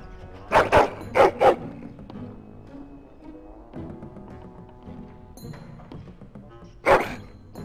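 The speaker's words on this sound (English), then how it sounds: "Oh, encourage the hound, why don't you?" A hound barks in the video game Dragon Age Origins, four sharp close barks in quick pairs, then a quieter stretch of shuffling and low sounds, and one final loud bark near the end.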